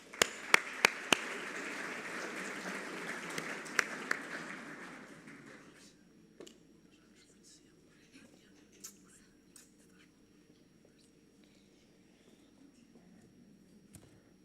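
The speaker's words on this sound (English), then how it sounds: "Luís Pedro Martins. Please, an applause." Audience applause at a tourism awards session in Aveiro, a burst of clapping with a few sharp near claps, fading after about five seconds into a quiet room with small scattered sounds.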